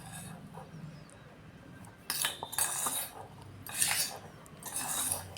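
A spoon clinks and scrapes against a bowl in a few short bursts, breaking up soft, soaked sago, close by and fairly quiet.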